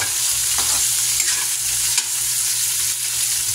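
Pork sinigang being stirred in a cooking pot, a steady close bubbling and sizzling wash with a couple of soft clinks from the utensil, no voices.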